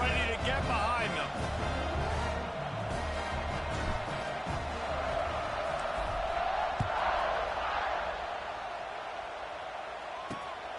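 A stadium crowd roars steadily in a college football video game, Notre Dame versus Maryland, a dense, constant wash beneath continuous play-by-play commentary.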